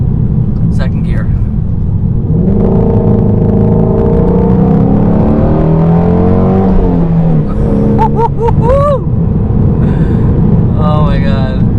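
Ford Mustang Shelby GT350 engine pulling hard at full throttle in second gear, a loud, close rumble rising steadily in pitch, with a shift and renewed climb later and voices heard over it.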